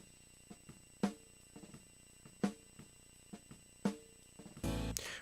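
A snare drum heard through its top microphone in Superior Drummer 3 plays a quiet, steady pattern of light strokes with a few sharper accents, then a brief loud burst at the end.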